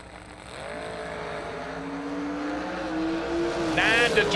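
Drag racing cars, a Gen 1 Camaro and an Oldsmobile among the dragsters, whine from a distance. Engine tones rise steadily and a louder rev builds near the end, with a voice talking over them.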